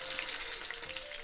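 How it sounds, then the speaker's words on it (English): Chicken pieces fry in hot oil in a small pan, a dense, steady crackling sizzle heard close up with no talk over it. "frying the smaller pieces first, not overcrowding the pan"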